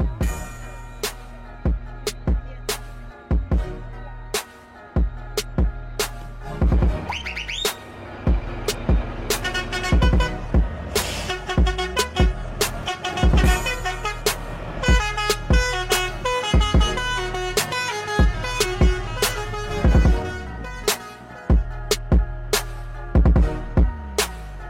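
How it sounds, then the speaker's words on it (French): Around forty Titan sugarcane trucks roll out in convoy from a sugar mill transfer centre at the end of the 2017 harvest season, sounding loud repeated horn blasts over a steady engine rumble, close and continuous. "une quarantaine de camions Titans vont quitter le centre de transfert de l'usine Bonne-Mère, direction Gardel"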